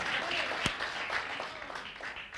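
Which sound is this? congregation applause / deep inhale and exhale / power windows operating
congregation applause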